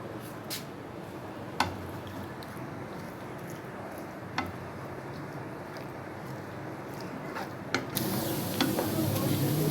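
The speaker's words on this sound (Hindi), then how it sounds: "अब इसमें ये प्याज ऐड कर दूँगी। और इसको थोड़ा सा गोल्डन ब्राउन कर लूँगी" Sliced onions sizzle steadily in half a cup of hot oil in a pot, cooking toward golden brown for a beef pulao, with occasional sharp clicks of a spoon stirring against the pan.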